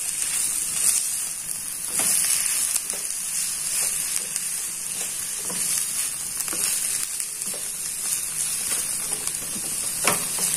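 Chicken spring roll filling with onion sizzles steadily in a hot pan while being lightly stirred, a continuous close frying hiss broken by soft scraping strokes, with no talking.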